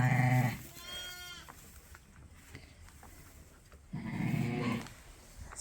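Sheep with their young lambs on a farm bleat close by, two loud calls separated by a quieter stretch with softer, higher bleats and faint rustling, and no one speaking.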